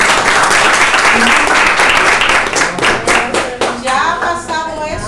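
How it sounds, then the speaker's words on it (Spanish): Loud, close classroom applause for a classmate, dense clapping that grows more scattered toward the end, with some voices mixed in. "un aplauso para su compañero."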